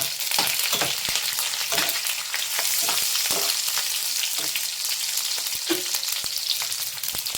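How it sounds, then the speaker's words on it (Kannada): Curry leaves and slit green chillies frying in hot oil, a continuous close sizzle broken by the quick scrapes and clicks of stirring, with no voices. "ಕರಿಬೇವನ್ನ ಸೇರಿಸ್ಕೊಳ್ಳೋಣ. ಹಾಗೆ ಒಂದು 4 ಹಸಿಮೆಣಸಿನ್ಕಾಯಿ ಸೀಳ್ಬಿಟ್ಟು ಹಾಕ್ಕೊಂಡಿದ್ದೀನಿ. ಸ್ವಲ್ಪ ಫ್ರೈ ಮಾಡ್ಕೊಳ್ಳೋಣ."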